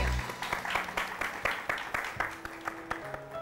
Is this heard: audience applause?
yes